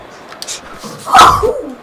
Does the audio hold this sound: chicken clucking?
no